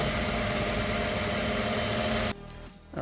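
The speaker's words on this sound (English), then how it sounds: "it was a little noisy with the engine running" A Volkswagen Atlas engine idles loudly and steadily up close, a constant low drone that cuts off abruptly near the end.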